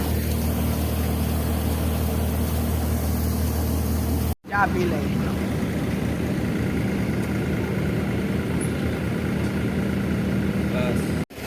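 A tractor engine idles as a constant, even drone throughout, briefly cutting out once, while people talk over it.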